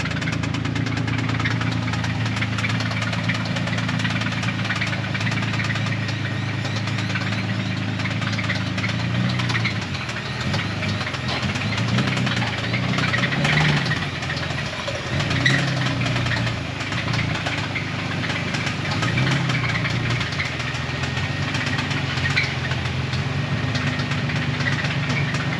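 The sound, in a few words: pickup truck engine idling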